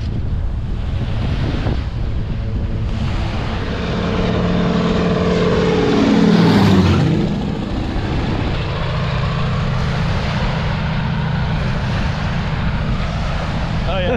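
A small aircraft engine drones loudly and steadily during a wilderness trip on the tundra near Whitefish Lake, its pitch sweeping down and back up midway through over strong wind noise, with faint talk beneath.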